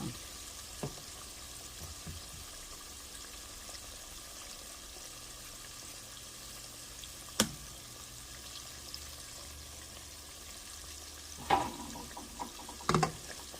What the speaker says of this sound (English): now it's beginning to fry